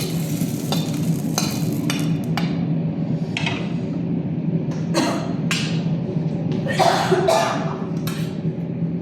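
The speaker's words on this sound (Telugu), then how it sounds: "దగ్గు" A cough breaks through a steady sizzle of ridge gourd frying in oil, with scraping stirring sounds close by.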